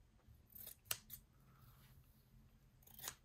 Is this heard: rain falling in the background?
no